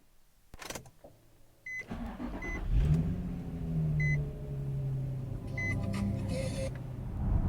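A salvage Nissan 350Z driven around the city: a soft electric whir and a few short chimes, then the engine starts up and runs steadily with a mid-range hum, close by inside the car.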